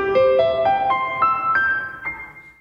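A Casio CT-X3000 keyboard's piano voice set to maximum reverb plays a rising run of single notes, each attack followed by a long, washy reverb tail that swamps the piano tone, with no voices present.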